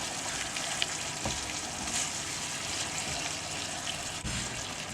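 Garlic pickle simmering in vinegar and jaggery water, a steady close bubbling and sizzling hiss that continues evenly with a couple of small clinks.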